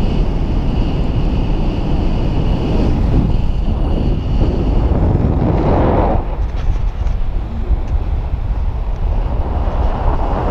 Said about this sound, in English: So this is waterfall down there